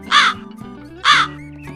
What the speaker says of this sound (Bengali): আর কাকলু কাক।